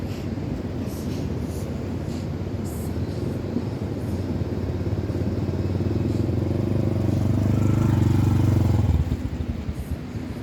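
A motorcycle rides an off-road track in the rainy Astore Valley, its engine a steady loud drone with a rattling chassis, rising in pitch and intensity before easing off near the end.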